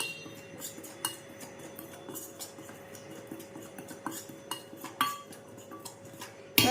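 A spoon stirs a spiced batter with chilli powder in a bowl for potol pakoras, giving soft, repeated clinks and scrapes against the bowl over a faint steady hum, quiet and close.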